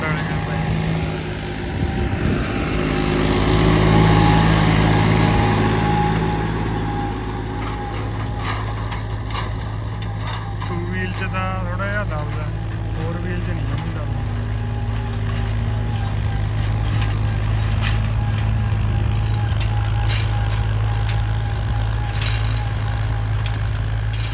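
A Massey Ferguson tractor pulling a rotavator drones steadily throughout, loud and continuous, with a voice talking over it.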